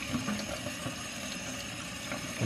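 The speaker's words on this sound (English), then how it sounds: "Let's put some water on that filter" Cold water poured onto the filter of an Arctic Air cooler gives a steady, close splashing and trickling wash with a few small gurgles. No one speaks.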